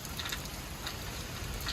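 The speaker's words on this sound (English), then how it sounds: "Look at this hail right here." Hail falls during a severe thunderstorm in Edwardsville, Illinois, a faint, dense patter of ice pellets with a few sharper clicks standing out against the steady hiss.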